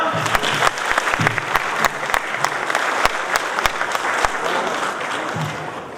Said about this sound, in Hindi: उनके लिए जोरदार तालियां एक बार।